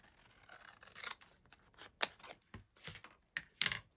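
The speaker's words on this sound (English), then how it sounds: "don't use the fabric scissors, Carol. This is card" Scissors snipping through card, a few crisp separate cuts at an uneven pace, close and fairly quiet, with no talking.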